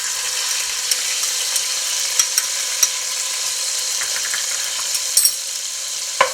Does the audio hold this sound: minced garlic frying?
yes